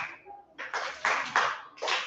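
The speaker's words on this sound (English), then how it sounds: "Can we give him a clap?" Grade five class clapping during an online lesson, a few short bursts of hands clapping together, close and fairly loud.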